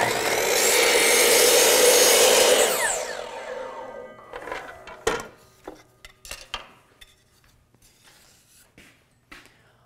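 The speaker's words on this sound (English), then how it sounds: "I'm going to cut this out on the miter saw." A miter saw whines loudly through a wood cut for about three seconds, then winds down, followed by scattered knocks and clatter of the workpiece being handled.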